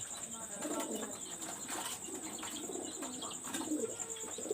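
Teddy high-flyer pigeons coo in a repeating, low warbling rhythm, fairly close and moderately loud, with a steady high-pitched hum running throughout.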